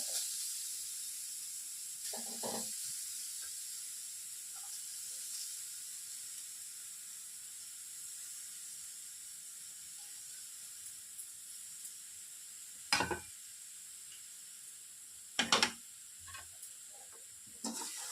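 Grated carrot sizzles in hot ghee, a steady high hiss of frying with a few brief louder clinks and stirring scrapes from the pan, no voices.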